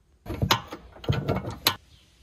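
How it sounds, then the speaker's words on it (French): An 18 mm socket wrench loosens a nut on the front strut of an Audi TT MK2 8J, giving a few close, loud bursts of ratcheting metal clicks with brief pauses between them. "Maintenant, on démonte ici, donc c'est une clé à pipe de 18"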